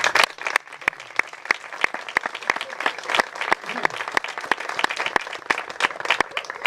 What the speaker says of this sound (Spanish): pido un fuerte aplauso para Ángela.